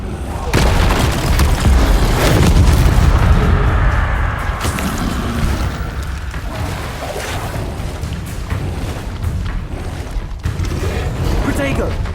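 Incendio fire spells burst in Hogwarts Legacy, heavy booming explosions with rumbling, rolling low end that swell and fade across the stretch, mixed with a shouted voice and busy game action.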